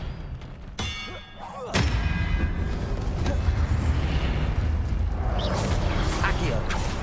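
The Expelliarmus spell is cast in the video game Hogwarts Legacy as a sharp magical burst and clang that gives way to a loud, sustained whooshing rumble of combat effects. Faint voices sit under the din.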